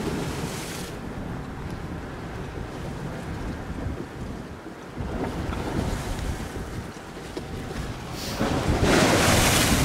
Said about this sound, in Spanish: ya empezamos con las olas.